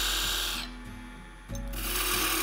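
A wood lathe turning a wooden snowman, a loud steady motor hum with a tool cutting into the spinning wood, the tone dipping briefly in the middle before resuming at full strength.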